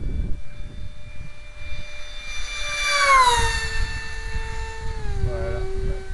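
Aircraft engine whining steadily through a barrel roll and stall turn, its pitch sweeping down and shifting as the plane rolls and reverses, moderately close with a continuous drone throughout.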